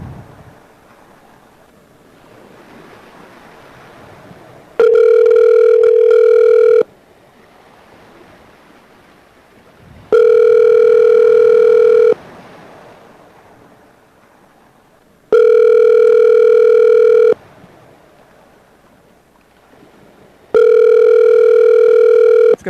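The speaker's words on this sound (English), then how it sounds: "It's gonna work if somebody answers the phone." An outgoing telephone call rings out with four long, loud tones, each about two seconds, separated by roughly three-second gaps of faint background hiss, with no voices.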